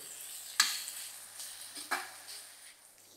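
Diced potato, corn kernels, capsicum and tomato sauté in a pan with a soft, steady sizzle, broken by two or three stirring scrapes, fairly quiet and without speech.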